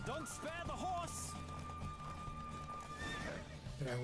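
A horse gallops with rapid clip-clop hoofbeats and neighs loudly during a race in the video game The Witcher 3, with rushing movement and a voice speaking over the action.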